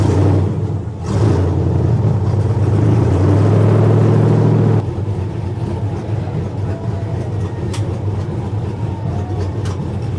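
A race car accelerates hard down Woodward Avenue at a Roadkill Nights grudge-match drag race: a loud, close, roaring engine with rising pitch that drops into a lower, steadier drone about halfway through.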